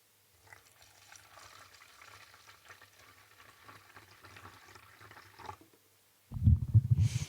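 Water is poured into a meal-replacement shake mix, heard as a soft, uneven trickle and gurgle for several seconds, then a brief pause and a louder burst of liquid sloshing at the end.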